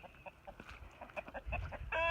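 Several chickens cluck softly and repeatedly in the snow and slush at close range, short broken calls overlapping, ending with a brief higher squawk.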